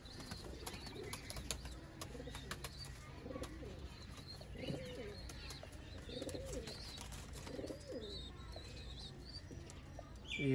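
A breeder pair of Sialkoti rooftop pigeons coos repeatedly at a moderate level, with the soft calls recurring every second or so amid light wing flutters and faint chirps from other birds.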